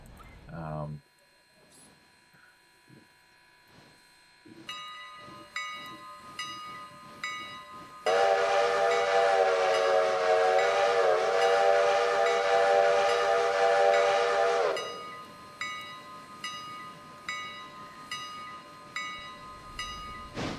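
A steam locomotive whistle in the train game Railroader sounds one long, loud, steady chord-like blast lasting several seconds, with rhythmic chuffing and hiss of the engine before and after it.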